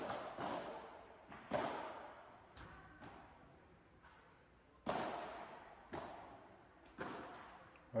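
Padel ball struck in volleys during a mixed match, a handful of sharp, hollow pops spaced irregularly over several seconds, moderately close, with faint court ambience between hits.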